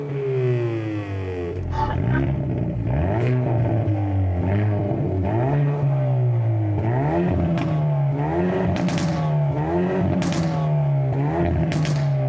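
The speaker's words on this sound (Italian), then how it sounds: "avete lo scarico che continua a borbottare quando è logicamente nella modalità N" Hyundai i30N Performance hot hatch driving in N mode, exhaust burbling and rising and falling with repeated revs, interrupted by sharp crackles and pops, close and loud with no voices.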